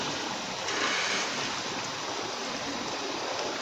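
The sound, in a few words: water boiling with potatoes and spices in a pot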